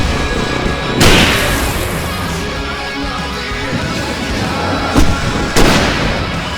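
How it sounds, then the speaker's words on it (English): A flashbang goes off in Alan Wake Remastered, a sharp loud burst near the one-second mark, with two more short bangs near the end over a steady dense game soundscape. "Need a flashbang"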